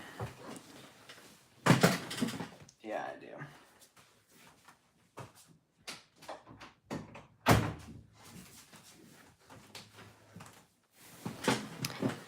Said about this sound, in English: I think I have to close my bedroom door.